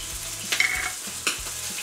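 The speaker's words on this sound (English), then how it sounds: "Whilst your burgers are sizzling in the background" Burgers sizzle in a frying pan: a steady close hiss of frying with a couple of brief metallic clinks over it, no one speaking.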